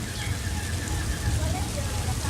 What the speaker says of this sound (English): Just so long as the rain stops right now.